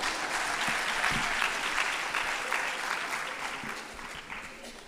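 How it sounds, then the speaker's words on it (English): Audience at a memorial public lecture claps after a safety briefing, a dense continuous round of applause that slowly fades over about five seconds, with no talking. "You can clap hands for the safety briefing."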